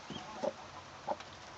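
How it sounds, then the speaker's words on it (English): A mother hen on a farm gives a few soft, separate clucks, with two clearer calls near the middle, low and quiet against steady background hiss. "Aww, look at her clucking."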